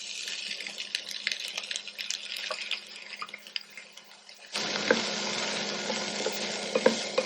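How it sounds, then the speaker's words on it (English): Boiled, drained cauliflower florets sauté in a pan for a South Indian poriyal stir fry, a steady sizzle with stirring scrapes and clinks, growing louder and denser partway through, with no talk. "Now saute this for 10 minutes or till the cauliflower florets are cooked well."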